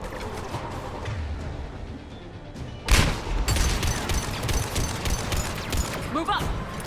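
A trooper firing a mounted gun in Mass Effect 3, a sudden loud blast followed by sustained rapid bursts of heavy gunfire with chaotic battle noise, while a voice shouts orders.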